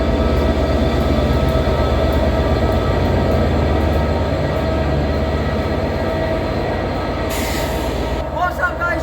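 A Transport for Wales Class 67 diesel locomotive hauls a train, with a steady loud rumble and rail clatter heard from on board and a brief squeal near the end.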